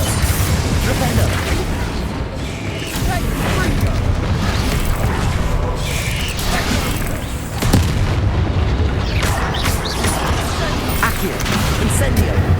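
Spell explosions and magical combat blasts from the Hogwarts Legacy video game, a loud, dense run of booms and bursts that continues without a break, with a voice shouting over the fighting.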